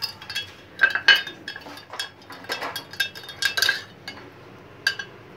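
A spoon stirring salt into a small amount of water, clinking repeatedly and briskly against the sides of a glass or cup, loud and close, with brief pauses between bursts and no talking.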